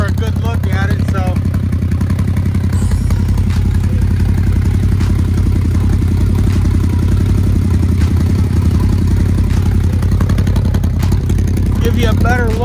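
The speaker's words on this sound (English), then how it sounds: "I know a lot of you are loving on my exhaust here. Custom exhaust." A vehicle engine idling through a custom exhaust, a steady low rumble with faint clatter running throughout.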